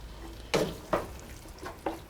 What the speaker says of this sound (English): And then I'm going to put about 1/2 cup or so of dry white wine in there.